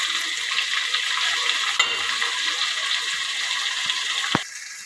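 Ginger garlic paste fries in a kadai with cinnamon, cloves and chilli, a continuous hissing sizzle with a couple of brief knocks near the end.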